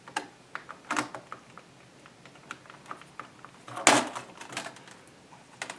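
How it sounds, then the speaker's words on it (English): A small sharp knife pries up the keyboard of a Toshiba Satellite P755 laptop, giving scattered plastic clicks and ticks with one louder snap near the end, close and dry with no voices. "you will start at the top of the keyboard and just simply lift it up"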